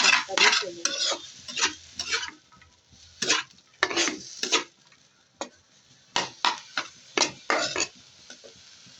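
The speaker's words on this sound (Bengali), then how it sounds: "আমার শাক ভাজি নাড়াচাড়া দিতে হবে, যাতে পেঁয়াজ রসুনের সাথে এই শাকটা মিশে যায়" Jute leaves fried with onion and garlic are stirred in a pan, a series of close, crisp scraping bursts in uneven rhythm over a faint sizzle, separated by short quiet gaps, no talking.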